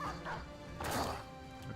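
A dog barks and yips in the medieval tactical game Battle Brothers with the Legends mod, a short sharp burst over a dense, noisy game soundscape.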